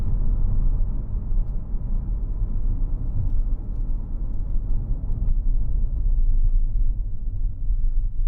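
A 2010 Audi A4 Avant 3.0 TDI S line with S tronic gearbox, driven in sport mode, gives a steady low cabin rumble of engine and road noise throughout.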